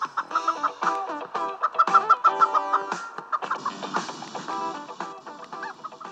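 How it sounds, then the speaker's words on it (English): Rapid chicken clucking and squawking from a car in the video game Turbo Dismount, a dense series of loud, close bursts in quick uneven rhythm with no talk over it. "It makes chicken noises."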